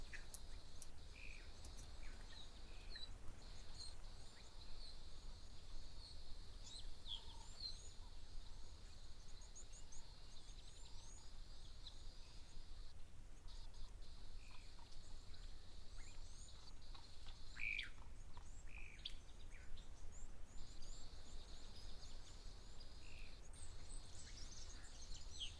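Birds call intermittently at a waterhole, faint scattered chirps and whistles over a constant high insect-like buzz and quiet background.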